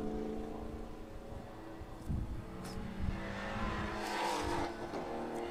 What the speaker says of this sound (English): That car literally stopped on a dime.